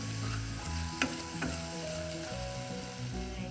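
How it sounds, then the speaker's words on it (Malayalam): Okra and tomato sauté in a pan on a low flame for a curry, a soft, quiet, steady sizzle with two sharp stirring clicks close together near the middle. "ലോ ഫ്ലെയിമിലിട്ട് നമുക്ക് വഴറ്റിയെടുക്കാം."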